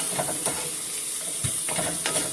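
Onions and green peppers sautéing for dirty rice, a steady close sizzle with occasional soft scrapes and knocks of stirring, no talk.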